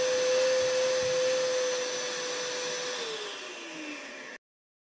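An iQ426HEPA dust extractor runs after sucking up drywall dust, giving a loud, steady suction roar with a high whine that drops in pitch as the motor winds down, then cuts out abruptly.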